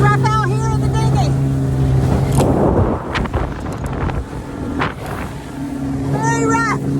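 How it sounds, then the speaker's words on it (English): A motor dinghy pounds through rough water, its outboard whining steadily under heavy wind buffeting and splashes, with a person talking briefly near the start and again at the end. "It's rough out here in the dinghy."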